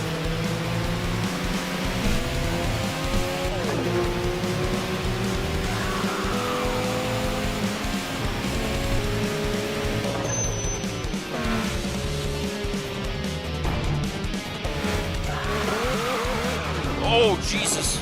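Car spinning out in the TXR 2025 racing game: a steady revving engine with squealing, skidding tires that persists throughout, loud and close, while someone talks over it.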